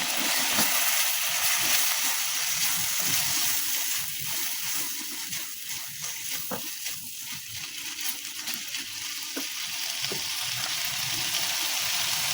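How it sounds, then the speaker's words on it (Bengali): Garlic and ginger paste frying in a pan for prawn malaikari, giving a steady, moderately loud sizzle with scattered crackles and faint spoon scrapes throughout. "এক চা চামচ আদা বাটা এগুলো আমি ভালো মতো ভেজে নিব"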